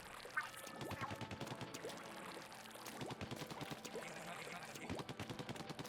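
Splattershot weapon firing in Splatoon 2, rapid wet splattering shots in quick repeated bursts, moderately close, with game sounds mixed in.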